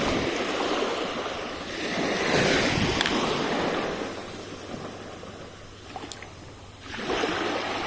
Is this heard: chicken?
no